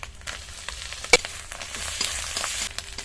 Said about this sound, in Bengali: এবার এই সব কিছু মশলা সুন্দর ব্রাউন কালার হওয়া পর্যন্ত ভেজে নেব